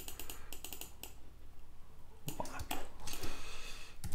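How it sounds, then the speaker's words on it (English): Computer keyboard keys click in short bursts of rapid taps while an image is edited in Photoshop, close-miked and fairly quiet over a low background hum, with a pause between clusters. "Using my bracket keys to get in the corner there."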